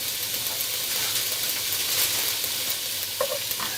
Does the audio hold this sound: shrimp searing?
yes